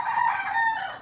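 A rooster crows once nearby, a single drawn-out, moderately loud call with a bright, slightly falling tone, heard alone with no talk.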